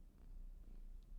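A pet cat named Dispy purrs softly and close by, a low continuous rumbling hum with faint rhythmic pulsing, quiet and steady throughout with no talking over it.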